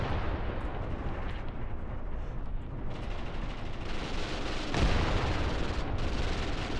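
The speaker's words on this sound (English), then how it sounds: "They're gonna start shelling the town." Artillery shelling a town in Graviteam Tactics rumbles as a steady, heavy roar of distant blasts, with a deeper surge of impact around the middle of the stretch.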